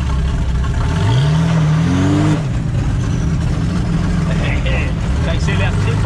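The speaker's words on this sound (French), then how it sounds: "Ça accélère très fort sans toucher beaucoup." A Traction car fitted with a V12 bi-turbo engine accelerates hard, its close, loud engine note climbing steeply in a single rev for about a second, then settling into a steady rumble with faint voices underneath.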